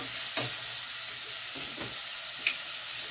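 Tomatoes fry in oil until golden brown, giving a soft, steady sizzle with a few brief stirring clicks against the pan throughout.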